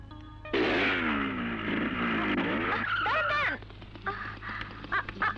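A motorbike pulls away on a hilly road with a loud tire squeal and a rising engine whine, then fades into scattered, quieter mechanical sounds.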